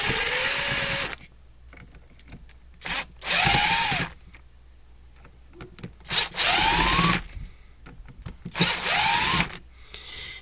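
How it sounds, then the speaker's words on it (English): A power drill backs four screws out of a Mainstays SFC-225BR1 9-inch high-velocity fan. The motor whines in four separate bursts, each spinning up and winding down, with short quiet gaps and faint handling noises between them. "we're going to go ahead and take these 4 screws out here"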